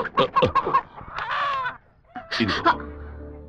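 Chickens cluck in quick, excited bursts, followed by a longer squawking call, then a fresh burst of sharp clucks, near and fairly loud, during a tense chase to catch a hen in a scene from the Telugu film Simha Putrudu.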